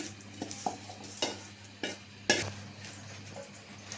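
Onion fries in a pan with a soft sizzle, broken by several distinct scraping stirs and spoon knocks against the metal at irregular intervals.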